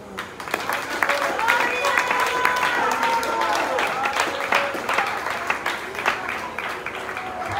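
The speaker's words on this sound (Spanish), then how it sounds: "Un aplauso al" A church congregation applauds during a Spanish-language evangelical worship service, with thick, continuous clapping mixed with raised voices calling out and some tonal vocal sounds throughout.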